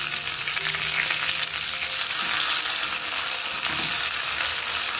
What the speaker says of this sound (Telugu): నూనె కాగిన తర్వాత తుంపిన పచ్చిమిరపకాయలు ఇందులోకి వేసుకొని వేయించుకోవాలి